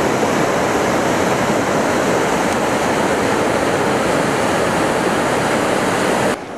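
Tumalo Falls, a large waterfall near Bend, Oregon, roars as a steady, dense rush of falling water, loud and close, unbroken for the whole stretch before cutting off abruptly at the end.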